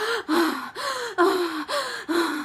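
A voice imitates forceful deep breathing: five rhythmic, sharp inhaled gasps in quick succession, close and moderately loud.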